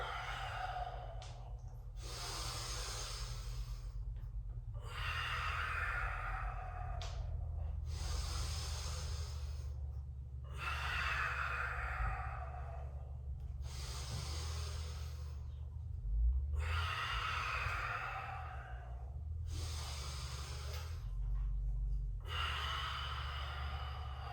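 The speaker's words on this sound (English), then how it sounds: "Inhale on that opening, exhale through." Deep, slow breaths during a gentle yoga flow: long airy inhales and exhales repeat in a steady rhythm about every three seconds, close and clear over a low steady hum.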